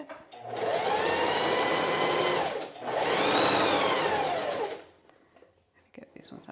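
Domestic sewing machine stitching two rows of gathering stitches on t-shirt fabric, a loud whirring run in two long bursts with a brief pause between, then stopping into quiet handling sounds.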